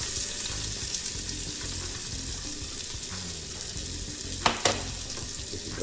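Onions hit a hot pan for a tomato sauce and hiss in a steady, dense sizzle, close and continuous, with a couple of brief clinks near the end.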